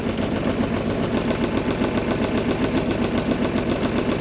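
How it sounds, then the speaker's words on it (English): A marine diesel engine idles steadily with an even, rhythmic chugging knock, close and continuous, no voices. "Motor is still sounding fine."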